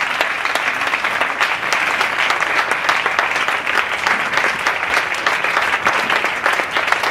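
A church congregation at a Sunday service applauds in a steady, dense wash of clapping that holds loud and even throughout, with a faint hint of voices underneath.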